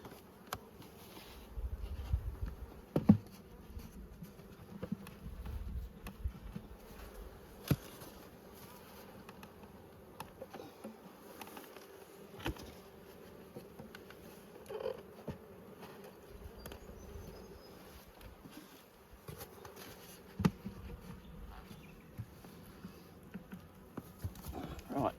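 Honey bees buzz around a beehive nuc, a faint, continuous hum close by with occasional brief taps and knocks, no one speaking.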